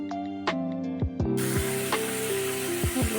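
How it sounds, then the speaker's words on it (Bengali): A masala paste with cumin and bay leaf goes into hot oil in a wok for an egg curry. A few bright metallic clinks are followed by a sudden loud, steady sizzle that keeps going. "কড়াইতে তেল আর একটু দিয়ে জিরা তেজপাতা দিয়ে মশলাটা কষায় নেব"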